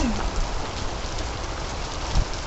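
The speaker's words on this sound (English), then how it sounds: "More rain." Heavy rain falls steadily during a flood, a dense even hiss of drops on surfaces close by, with a couple of low thumps and a faint voice briefly underneath.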